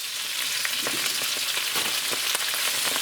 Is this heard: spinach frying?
yes